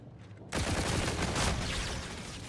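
Dense, continuous gunfire from a first-person shooter video game erupts abruptly after a quiet half-second and rolls on loud and sustained, with overlapping rapid shots and no voices.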